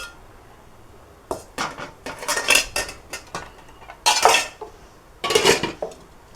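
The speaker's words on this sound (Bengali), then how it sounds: "এখন এখানে আমি দিব এই যে মাছের মাথাটা, তেলগুলোও দিয়ে দিব।" Metal utensil clinks and pot clatter as a hilsa fish head and oil go into a cooking pot in a home kitchen, several short bursts of scraping and knocking separated by quiet pauses, close and fairly loud.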